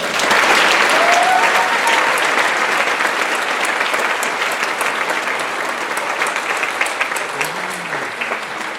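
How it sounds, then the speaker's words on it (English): Sustained applause from a graduation audience at the 2019 Huxley graduation celebration, a steady dense wash of clapping that holds for the full span and tapers slightly toward the end. "Let's give a round of applause to Deborah."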